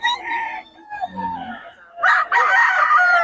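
A rooster crows close by at a chicken market in Bocaue, a short run of loud, harsh calls with clucking fowl around it.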